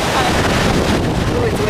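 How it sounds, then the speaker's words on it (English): Loud, steady wind buffets the microphone with a dense roar at the Multnomah Falls trailhead, filling the whole short stretch without a break. "Oh, it's windy."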